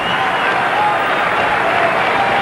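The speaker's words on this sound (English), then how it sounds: "the crowd erupts with approval" A large crowd at a 1981 NCAA swimming and diving championship in Austin, Texas applauds a dive, the clapping loud, dense and sustained throughout, with faint voices mixed in.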